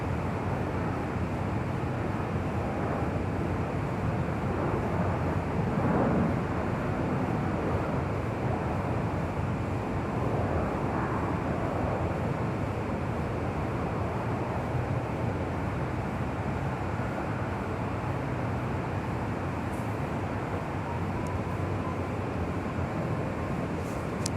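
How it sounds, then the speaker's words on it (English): United Airlines Boeing 757-300 landing on runway 25 left at LAX, a loud sustained broadband roar of jet engines and wind noise that stays steady for the whole span. "That was the United Airlines flight 2675 coming in from Houston, Texas, and that's 757-300."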